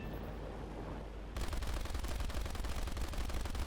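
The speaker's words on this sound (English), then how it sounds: "Doesn't stop firing for kill number 7." Turret machine gun in War Thunder firing a long, unbroken burst of rapid shots after an opening stretch of quieter engine and ambient noise, the gunfire loud and close with dense, rhythmic reports.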